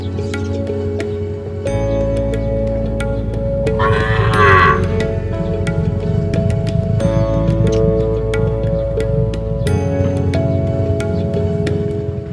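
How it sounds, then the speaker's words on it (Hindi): Goats and other farm livestock in Sindh call out with loud, close bleats and moo-like bellows that overlap through the whole stretch, against a steady low background rumble and no talk. "ये कोई छोटा माल है, कोई बकरियां हैं"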